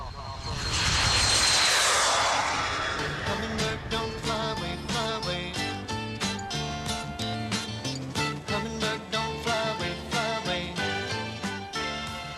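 A small Acrojet aerobatic jet plane roars past at an air show in 1982, a loud swelling engine rush that fades, followed by someone narrating over music.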